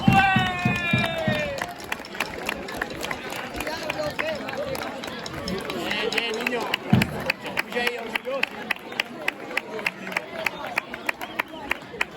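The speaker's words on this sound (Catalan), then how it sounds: "Un fort aplaudiment." Applause at a school Sant Jordi writing-contest award ceremony, with many hands clapping steadily after a brief stretch of talking at the start, a dense crowd patter that continues to the end.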